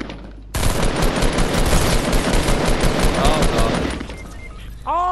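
Rapid automatic gunfire in a Fortnite match bursts in loud and dense for about three and a half seconds, then breaks off into a short whooshing sweep, with a player briefly exclaiming.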